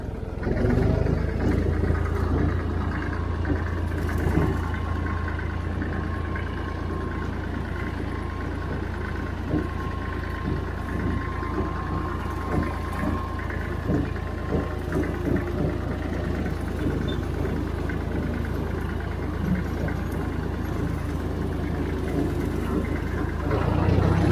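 A tractor engine drones steadily and loudly throughout while mowing hay in first gear with the 540 PTO engaged, a constant low mechanical hum with a faint whine running over it.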